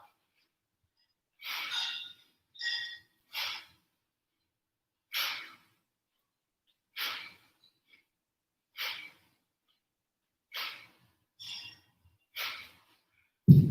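Sharp, breathy exhalations during a kettlebell cardio workout, about ten separate puffs at a steady, slightly uneven rhythm, close and alone against silence.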